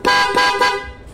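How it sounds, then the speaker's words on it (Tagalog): A motorcycle's car-style horn honks three times in quick succession, loud and close, each blast short with a brief gap before the next. "Then ito yung sa busina naman niya."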